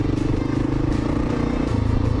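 A 2010 Kawasaki KLR650 adventure motorcycle with upgraded suspension riding a rough track, its single-cylinder engine a steady close drone with light rattles and clatter from the bumpy ground.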